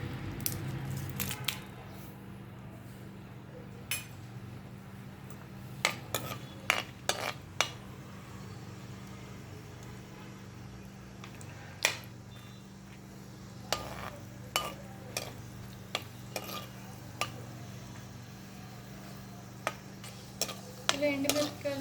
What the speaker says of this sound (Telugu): సో ఆయిల్ అయితే హీట్ అయిపోయింది, ఇందులో ఎండుమిర్చి వేసుకుంటున్నాను